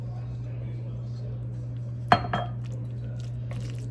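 Mozzarella being mixed into a stuffed-shells filling: a steady low hum fills the background, broken by one sharp clink of a utensil against the bowl and a softer knock just after.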